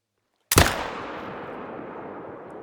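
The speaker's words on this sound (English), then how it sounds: "he's the one that I'm going to shoot" A single hunting rifle shot fired at a reindeer in theHunter: Call of the Wild's Medved Taiga reserve cracks out sharply after a short silence, then rolls away in a long, fading echo.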